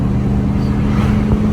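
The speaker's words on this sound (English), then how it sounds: "Noisy ass car." A loud car passes close by at a house's front door, a steady rumbling engine drone holding level for the whole stretch with no talk over it.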